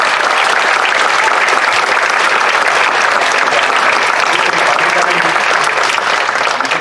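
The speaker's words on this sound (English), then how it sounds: "Everybody, a round of applause for my" Audience at a talk on audiobooks breaks into loud, sustained applause, a thick, close roar of many hands clapping steadily from start to finish, with scattered voices mixed in.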